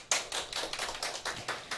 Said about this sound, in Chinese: 我们给他掌声鼓励。